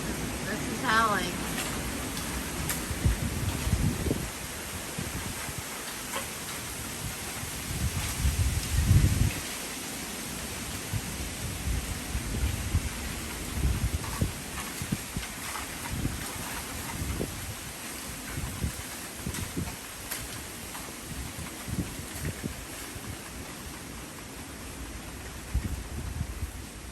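Strong wind roars through tall jungle trees in a long gusty wash of noise, rising and falling in surges with heavier bursts early and around the middle.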